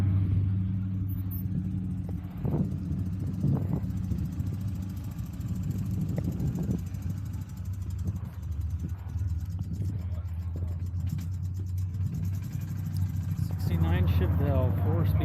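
A Chevrolet Chevelle with a four-speed manual rumbles past at a car show, its low exhaust burble steady and close, rising toward the end, while people chat over it.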